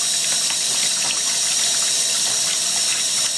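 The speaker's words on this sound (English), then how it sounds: "So I'm just going to very gently just trickle some water into the sink because I don't want it splashing up" Water runs gently from a tap into a kitchen sink in a soft, continuous, close hiss of trickling flow, heard alone without speech.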